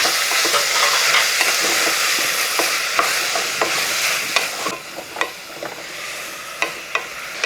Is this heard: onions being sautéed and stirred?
yes